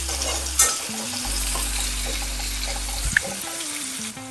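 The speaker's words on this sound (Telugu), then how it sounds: "ఆయిల్లో కొంచెం ఉమ్మగిలినట్టు అవుతుంది బీన్స్." Beans frying in oil for oats upma sizzle steadily up close, with stirring scrapes, a few clinks and a low hum underneath, and no talk.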